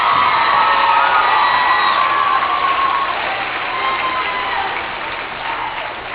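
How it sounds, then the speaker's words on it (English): Crowd of students at a 2017 homecoming assembly and coronation cheering and applauding the newly crowned king and queen, a loud, dense roar of shouts and whoops that holds steady and eases slightly toward the end. "Can we give them another round of applause?"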